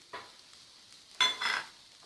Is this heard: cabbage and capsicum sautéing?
yes